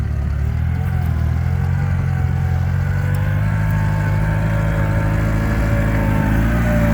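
Low, steady engine rumble of a Bristol 10 crawler tractor of about 12 horsepower pulling a full-size plough at a ploughing day, a continuous loud drone with no pauses and no talk.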